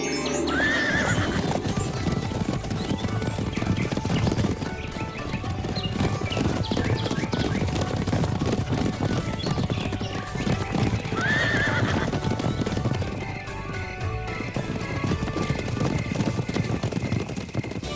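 Horses trot in a cartoon, a continuous clip-clop of hooves with two whinnying neighs, one early and one about midway, over a busy backing of music and effects.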